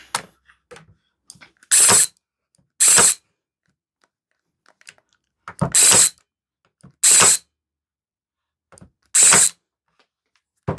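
Parkside PAT 20-Li A1 cordless 20 V tacker firing 25 mm staples into soft plywood on setting 1: five sharp, loud staple shots in an irregular sequence, with faint handling clicks between them and no talk.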